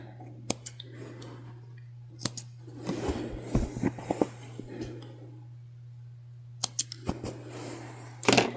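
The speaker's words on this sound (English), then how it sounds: "I'm just going to cut off our extra threads." Scissors snip extra threads from a beginner sewing project, a pillow with fur fabric. Sharp, close clicks and cuts come singly and in short clusters over a steady low hum, with quiet rustling between them.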